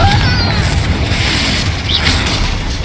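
A Confringo blasting curse from Hogwarts Legacy booms out as one continuous loud, rumbling explosion that carries through the whole stretch, with crackling debris on top.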